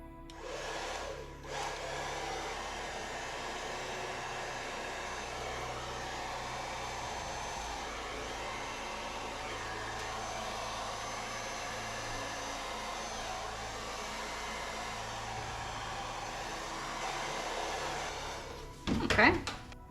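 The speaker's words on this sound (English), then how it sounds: "I've got my hairdryer. I'm going to try to blow this out." A hair dryer blows steadily across wet acrylic paint on a Dutch pour canvas, a constant close whirring rush lasting almost the whole time before a brief louder clatter at the end.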